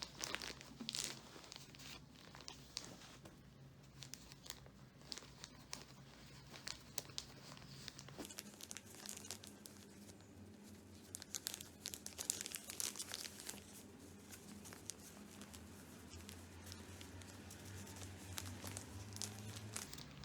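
Fabric furoshiki cloth being folded and adjusted around a tissue box, soft close crinkling and rustling with light crackles, continuous and quiet, no talking.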